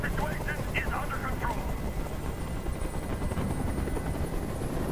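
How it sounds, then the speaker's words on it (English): Helicopter in the video game Detroit: Become Human, a loud, constant rotor and engine roar filling the whole scene, with brief voice-like sounds early on. "Tell that helicopter to get out of here!"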